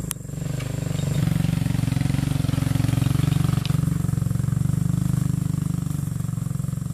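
A motorcycle hauling harvested oil palm fruit bunches through a plantation runs with a steady, close, chugging engine that settles into a continuous rough drone after a brief clatter at the start.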